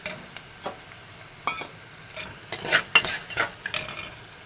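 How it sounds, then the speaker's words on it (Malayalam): Ginger and garlic sauté in a pan, with a steady low sizzle under a series of uneven spatula scrapes and stirs, some sharper clinks standing out near the end, no voices. "ഇത് നന്നായിട്ടൊന്ന് ഇതൊന്ന് വഴറ്റി എടുക്കണം ഒന്ന് വെന്ത് വരുന്നത് വരെ"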